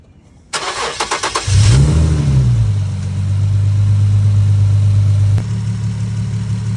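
A Nissan 370Z starting after an oil change: a rapid burst of starter cranking, then the engine catches with a loud rev that settles into a steady, close idle.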